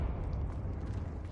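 A Confringo spell explodes in a Hogwarts video game: a deep, rumbling blast with a heavy low-end roar that fills the whole short moment.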